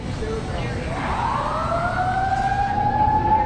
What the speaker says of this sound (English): Are these sirens supposed to be happening?